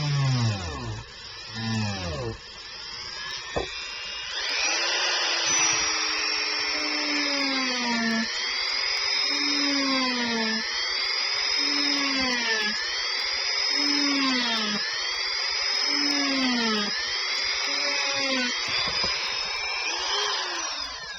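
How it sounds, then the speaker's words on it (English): Dremel rotary tool fitted with an engraving bit cutting into a slide bracelet, a high buzzing whine that keeps rising and dipping in repeated strokes for about twenty seconds, close and steady. "I'm using my Dremel, and this is a perfect tool for this, and this is the engraving bit that I'm using on here."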